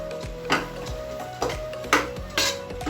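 Moong dal being mixed in a cooking pot, with a few distinct scraping knocks of a spoon against the vessel spaced about half a second to a second apart, close and moderately loud over a low kitchen hum.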